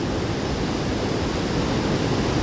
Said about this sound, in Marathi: हा हसणे धबधबा राधानगरी पर्यटनातला एक मानबिंदू सुरू झालेला आहे